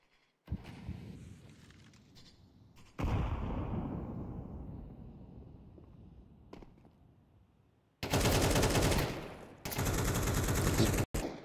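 Gunfire in Counter-Strike on the Overpass map during a competitive esports match: several sharp shots and bursts, with a long decaying boom near the start and loud sustained firing late in the clip, with no voices.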